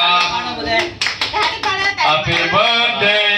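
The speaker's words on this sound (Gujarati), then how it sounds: "તાળી પાડો એ તાળી પાડો" People clap their hands at a family birthday celebration, a close, rhythmic run of sharp claps mixed with voices singing and talking.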